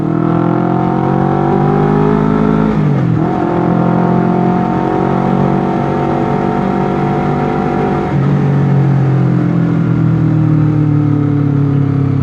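Honda CBR 250 RR twin-cylinder motorcycle engine revving up loud and close during a test ride, pitch climbing steadily, dipping briefly around three seconds and again near eight before rising once more.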